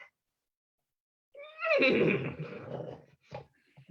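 A single horse whinnies as a radio drama sound effect, a rising, quavering neigh that trails off into snorts, close and clear after a moment of silence.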